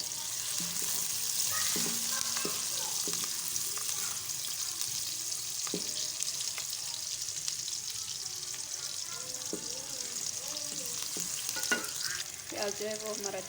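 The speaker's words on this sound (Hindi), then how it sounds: "प्याज जो है वो हमारा अच्छे से ब्राउन हो चुका है।" Onion fries and browns in a pan with a continuous hissing sizzle, punctuated by scraping and clinking stirring sounds.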